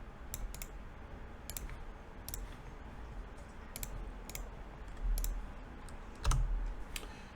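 Keys clatter on a computer keyboard as a command is typed, sparse quick clicks and short bursts over a soft steady hum, with a heavier thump near the end, close and clear.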